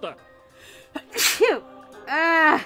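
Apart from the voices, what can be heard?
sneeze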